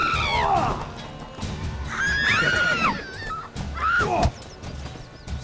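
Harsh digital horse whinnies from The Witcher 3 ring out three times, loud and close, over a low rumbling game soundtrack.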